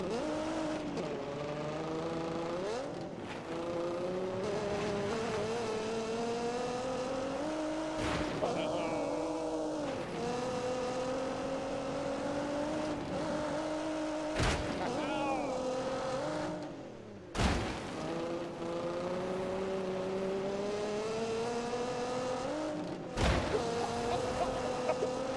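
A race car on a flying lap in The Grand Tour Game drones loudly and continuously, revs climbing and falling through repeated gear changes, with sharp shift breaks and occasional squeals throughout.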